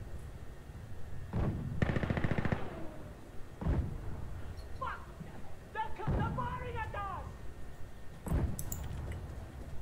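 FAMAS rifle fire in the tactical shooter Insurgency Sandstorm, heard as several short automatic bursts with sharp cracks, mixed with distant game effects and a faint voice, at moderate loudness.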